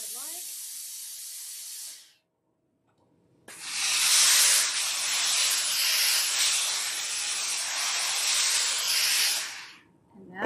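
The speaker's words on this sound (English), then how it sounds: "I am going to use some steam on that because it's not laying quite as flat as I'd like" Steam iron hissing as it presses a quilt block of fabric, a short burst of hiss followed by a pause, then a longer loud, close blast of steam lasting about six seconds.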